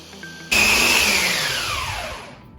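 A kitchen blender whirs loudly as it starts up while mixing macaron batter, a steady motor roar that keeps running and slowly eases off toward the end before cutting out.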